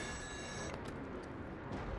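In the horror game Still Wakes The Deep, an old telephone bell rings in a quiet room, a bright metallic trill that stops short, followed by softer clunks and low ambient rumble.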